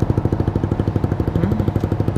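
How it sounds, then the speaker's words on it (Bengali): A motorcycle with a modified exhaust runs close by in a fast, even, thumping pulse, loud and steady throughout, with no talking. "একজস্টের সাউন্ড দেখছেন তার"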